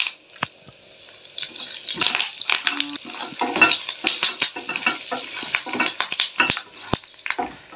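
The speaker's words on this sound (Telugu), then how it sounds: "ఫైనల్గా కొంచెం కరివేపాకు యాడ్ చేస్తాను ఇందులోకి" Curry leaves dropped into hot oil for a Rayalaseema-style bisibelebath, crackling and sizzling unevenly in bursts, with some stirring and pan clinks close by.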